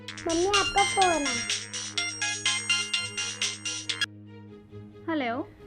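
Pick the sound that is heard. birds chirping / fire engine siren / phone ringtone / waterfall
phone ringtone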